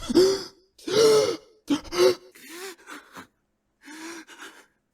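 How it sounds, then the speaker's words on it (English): A frightened horror video game character breathes heavily and hyperventilates, with sharp, rasping gasps in uneven bursts separated by short silences, close and alone without speech. "These are games where you even hear your characters heavy breathing when they're terrified"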